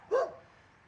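A single short bark from a puppy near a disc golf hole rings out close by, one brief yip that fades into quiet outdoor air.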